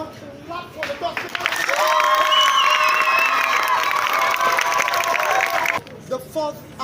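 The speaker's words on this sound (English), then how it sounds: "Now, clap for the doctor." An audience at a student debate claps and cheers for several seconds in a steady, loud wave of applause with shouts mixed in, then it fades back to a quieter room.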